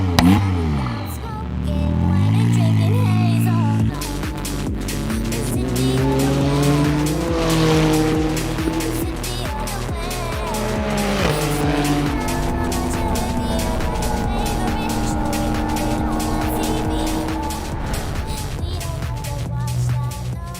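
A McLaren Artura Trophy EVO race car lapping the Sonoma circuit, its engine loud and close as it climbs and drops through gear changes, with tire squeal under hard cornering.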